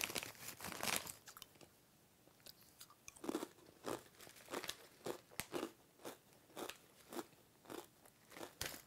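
Loud, close crunching of crisp cinnamon sugar crackers being chewed, bite after bite in an uneven rhythm, with no talking.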